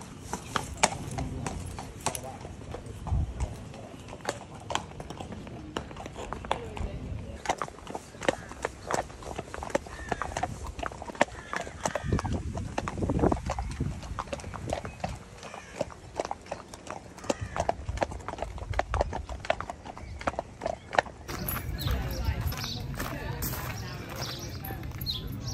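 Steady clip-clop of a ridden horse's hooves, a rhythmic string of close, distinct hoof strikes on firm ground continuing throughout, with occasional movement noise.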